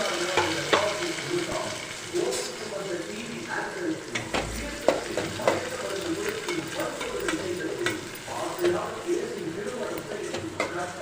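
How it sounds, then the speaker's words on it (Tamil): Small shallots, tomatoes and chillies sauté in a pan for an okra tamarind curry, with a steady sizzle broken by repeated scraping stirs at an uneven rhythm, while a person talks over the cooking. "சின்ன வெங்காயம், தக்காளி, மிளகாய் எல்லாத்தையுமே போட்டு நல்லா வதக்கணும் ஃப்ரெண்ட்ஸ்"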